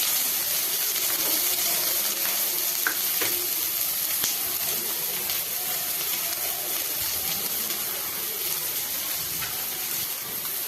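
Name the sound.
chopped onions frying in a little oil in a pan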